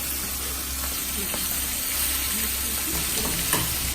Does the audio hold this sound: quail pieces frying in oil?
yes